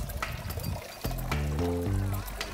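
Water poured while cooking Ethiopian injera, a steady close trickle and splash with short bursts and a sustained run of liquid filling a vessel, alone without talk.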